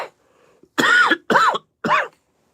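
Three harsh, close coughs in quick succession, each a short raspy burst, with near silence around them.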